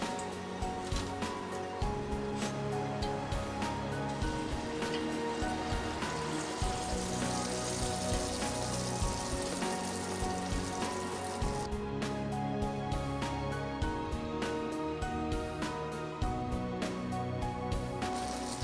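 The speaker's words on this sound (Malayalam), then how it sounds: "ഇതിപ്പം നമുക്ക് 1/2 മണിക്കൂർ കഴിഞ്ഞ മാവ് എങ്ങനെ വറുത്തെടുക്കുന്നതെന്ന് നോക്കാം" Unniyappam batter frying in hot oil, a steady dense sizzle with bubbling crackle that holds throughout, close and fairly loud with no talk over it.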